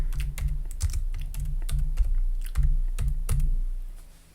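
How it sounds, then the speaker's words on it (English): Someone types a name on a computer keyboard, a steady run of close, crisp key clicks in uneven bursts over a low hum, with no voices. "And I'm going to type my name."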